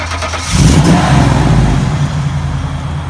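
A 1932 Ford Roadster engine revs up loudly and pulls away nearby, its deep rumble swelling after half a second and then holding a steady throaty drone as the car drives off.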